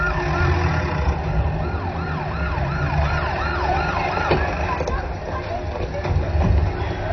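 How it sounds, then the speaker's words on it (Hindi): An ambulance siren wails in repeated rising and falling sweeps, held up in heavy traffic, steady and fairly loud over a low rumble of engines and street noise. "सर ट्रैफिक में एम्बुलेंस फंसी है।"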